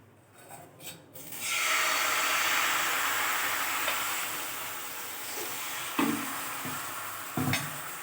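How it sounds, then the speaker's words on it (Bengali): Rice batter is poured bit by bit into a hot, oil-brushed pan and breaks into a loud, steady sizzle after a second of quiet, with a few sharp scrapes near the end. "এবার ব্যাটারটা অল্প অল্প করে দেব"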